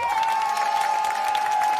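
Audience applause on a live Romagna variety show, a steady wash of clapping from a crowd with a sustained tone running beneath, no speech.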